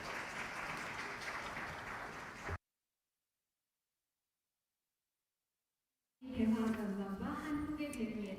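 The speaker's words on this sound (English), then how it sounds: "please join me in giving another round of applause to our five speakers" An audience at a forum applauds panel discussants with steady clapping. A stretch of silence interrupts it before clapping resumes with a voice over it.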